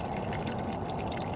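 Rainwater flows by gravity through a 150-foot hose into a tank in a greenhouse rainwater harvesting setup, making a steady, soft rushing and pouring wash with no talk.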